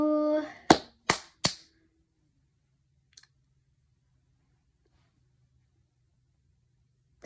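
Three sharp hand claps in quick succession, close and loud, each dying away fast, then near silence with a faint click, after a brief voice at the start.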